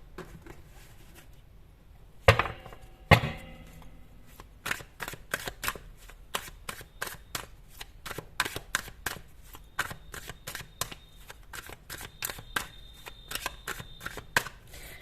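Tarot cards are handled and shuffled, giving a long series of quick, crisp snaps and flicks in a quiet room, with two sharper knocks early on before the rapid card sounds.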